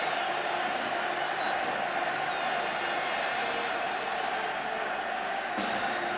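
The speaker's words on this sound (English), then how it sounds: "Really fine evening for the match, just a nice cool breeze and a capacity crowd." Capacity football crowd at an England v Argentina friendly, a steady distant roar of many voices with faint cheers and whistles, continuous and fairly quiet, with a commentator talking over it.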